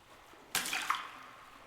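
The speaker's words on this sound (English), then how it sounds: "They can hear the ripples in the water." Water rippling in the video game Until Then: a sudden soft splash-like burst that fades into a gentle, lingering wash of rippling water, heard alone and fairly quiet.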